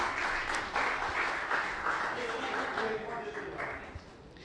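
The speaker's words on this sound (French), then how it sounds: "Merci Alessandro, nous applaudissons." Applause from an audience at a Haitian youth competition event, a steady wash of clapping lasting the whole stretch with voices murmuring underneath.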